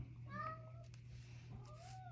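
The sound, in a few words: cat meowing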